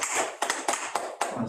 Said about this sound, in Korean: 우리 교수님 환영하는 박수를 드리겠습니다.